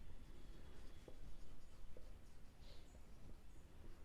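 Writing on a board while working a Class 10 coordinate geometry maths problem: faint, scratchy strokes with a few soft taps, quiet and steady, with no speech.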